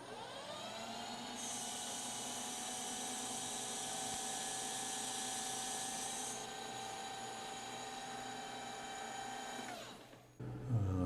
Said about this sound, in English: as this is brass, we can take a fairly heavy cut for such a small boring bar